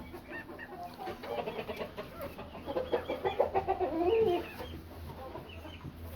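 Bantam Cochin chickens kept as pets on a farm give soft, repeated clucks and low murmuring calls, close by and fairly quiet, building briefly in the middle before settling back down.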